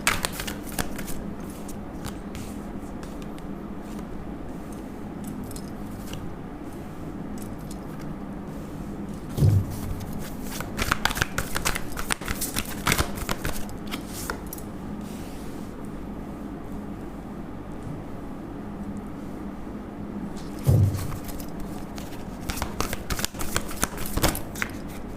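A deck of tarot cards is shuffled close by in two quick riffling bursts, with softer handling and rustling of the cards between them against a quiet background.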